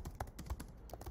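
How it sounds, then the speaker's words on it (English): Several quick keystrokes on a computer keyboard, close and fairly quiet, tapping in an uneven rhythm while figures are entered, with no speech. "I'll just type it like this here."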